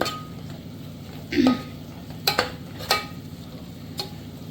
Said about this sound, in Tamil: நல்லா இந்த மசாலாவை மிக்ஸ் பண்ணிவிட்டு